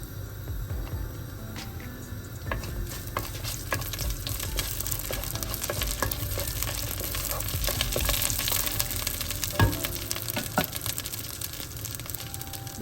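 Fennel seeds, fenugreek and curry leaves frying in hot oil in a home kitchen, a steady crackling sizzle with sharper spits and pops as the leaves hit the oil.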